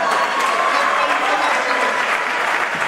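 A crowd at a college freshers' welcome event claps loudly and continuously, a dense, even burst of applause filling the whole short stretch.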